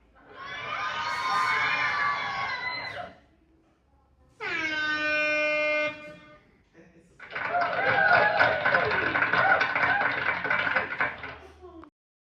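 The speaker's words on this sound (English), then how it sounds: "you can have them for laughter, for applause, and the other traditional party sound" Sound-effect buttons on a Tronsmart Halo 300 party speaker play three bursts in turn: a shouting, cheering crowd with a horn-like blare, then a pitched tonal effect, then a longer crowd roar with applause, each loud and separated by short gaps.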